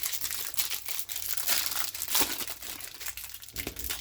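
Crinkly plastic wrappers rustle and crackle continuously as Shadow Era: Call of the Crystals booster packs are torn open by hand, close-up, in uneven bursts with a few sharper crunches.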